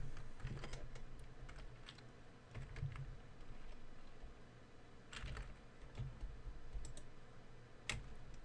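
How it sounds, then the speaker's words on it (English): Someone types on a computer keyboard, the keys clicking in quick irregular bursts close to the microphone over a quiet room hum, with no speech. "If I type Chris password"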